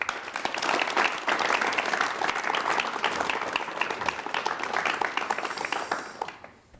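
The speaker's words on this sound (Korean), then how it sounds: "여러분 박수로 맞이해 주시면 대단히 고맙겠습니다." Studio audience applause fills a television talk-show hall as an elderly pastor guest is welcomed, sustained steady clapping from many hands that holds loud throughout and thins out at the very end.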